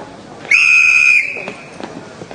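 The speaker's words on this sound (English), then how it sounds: "On the whistle." A single loud whistle blast about a second long starts a race at a cheese-rolling event, followed by faint crowd noise.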